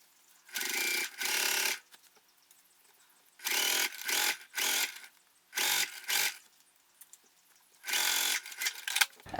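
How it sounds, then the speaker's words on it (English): A sewing machine stitches around a backpack gusset with a rubber-foam layer in four separate loud bursts of fast whirring, each about a second long, split by quiet pauses and no talk. "Then I'm sewing around the gusset the same way."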